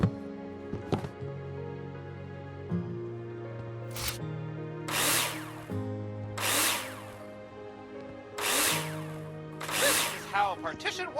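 In the video game Builder Simulator, a power tool fastens plasterboard to a partition wall with a series of short, sharp, whirring drill bursts spaced a second or two apart over a soft sustained musical background.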